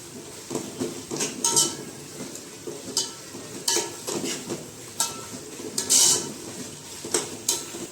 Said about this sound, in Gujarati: હવે હળદર નાખશું ને એકવાર મિક્સ કરી દઈશું બધું.